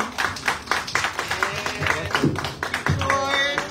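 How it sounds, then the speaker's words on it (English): Applause for a speaker at a send-off press conference for a Miss World Philippines candidate, a room of people clapping steadily and fairly close, with a voice talking over it toward the end. "A big round of applause, ladies and gentlemen."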